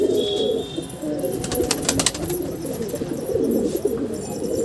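A large green pigeon coos in soft, low repeated calls nearby, with scattered chirps from other birds and light ambient noise in the background and no speech.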